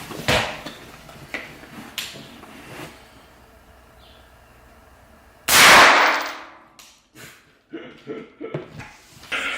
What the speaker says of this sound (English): I guess AR-15? Yeah, let's do a rifle. Let's do a real rifle.